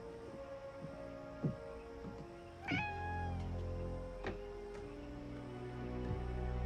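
A cat meowing in a video game, with a single clear, drawn-out meow midway, a few faint clicks and a low steady hum underneath.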